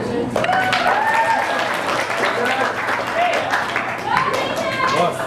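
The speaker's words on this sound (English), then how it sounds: "let's hear a round of applause for Jason" A graduation audience claps steadily, a continuous patter of many hands, while voices chatter and call out over the applause.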